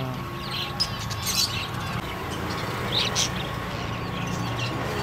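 Hand-tame cockatiels in a Mumbai bird shop give short, sharp chirps and calls in scattered bursts over a constant background hum, close by and fairly loud.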